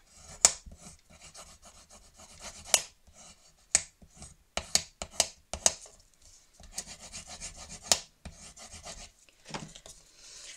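Ribbon pressed and rubbed down onto glue in a scrapbooking craft room: close, soft rubbing strokes broken by sharp taps and scrapes at an uneven rhythm, no talking.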